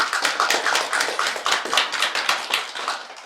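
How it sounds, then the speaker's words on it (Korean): A church congregation claps to encourage newly appointed elders, deacons and deaconesses, a steady, rhythmic patter of many hands, close and even throughout, with no voices. "직분 잘 감당하시도록 박수로 격려해 주시기 바랍니다."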